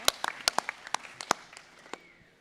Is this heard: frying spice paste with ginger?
no